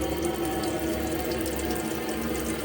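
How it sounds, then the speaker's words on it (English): Cold water runs steadily from the tap of a Burstner Marano T595 camper van, a continuous even hiss and splash at moderate level with no voices. "just come over to the tap here and draw the water through on the cold side"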